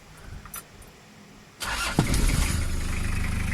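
A 1996 Toyota Hilux Mighty-X with a 2500cc diesel engine is cranked over briefly, catches quickly, and settles into a loud, steady idle. A few faint clicks come just before it starts.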